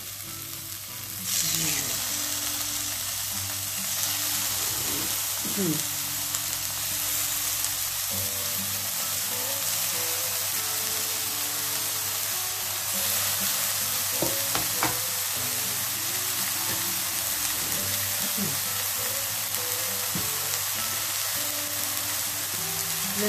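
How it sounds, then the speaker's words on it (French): Chicken breasts fry in a pan that was just used for golden onions, a loud, dense and continuous sizzle holding steady with faint scraping and stirring underneath and no talking. "dans la même poêle, je vais cuire mes suprêmes de volaille"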